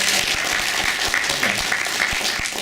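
An audience at the Portland Retro Gaming Expo applauds, a dense, steady wash of many hands clapping that fills the room and holds without a break, with no voices on top.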